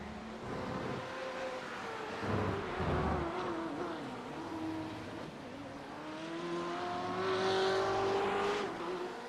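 Race car rounding the corkscrew at Laguna Seca in a sim racing game during a Grand Touring Club Cup event, engine note rising and falling through the turn with a steady drone and a faint tire squeal.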